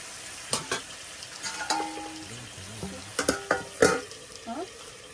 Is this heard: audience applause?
no